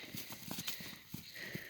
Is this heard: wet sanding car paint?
no